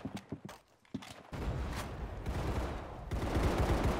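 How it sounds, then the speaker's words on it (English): Gunfire from players shooting in the Roblox game Arsenal: a few sparse cracks early on, then a dense, steady barrage of overlapping shots that grows louder toward the end. "I can hear people shooting up here"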